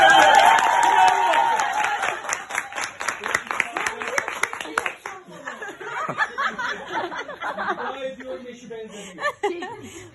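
A few people clapping hands in a pottery workshop, with a burst of rhythmic clapping alongside chuckles and laughter during the first half, then giving way to casual talk and occasional sounds.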